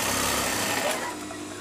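A sewing machine stitches a buttonhole on a shirt, its motor running as a steady, fast, close mechanical whir that eases slightly toward the end.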